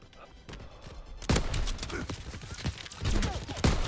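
Rapid bursts of PPSh submachine gun fire in a World War 2 video game, loud and dense with repeated rattling volleys and overlapping impacts throughout.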